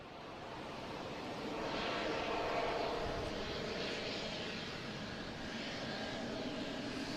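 An airliner takes off from runway 4 Right at Boston Logan International Airport, a broad engine roar that swells to a peak and then eases slightly, heard from a distance with no talk.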